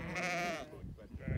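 Sheep bleat at close range, giving one sustained wavering bleat followed by quieter rustling and a short voice.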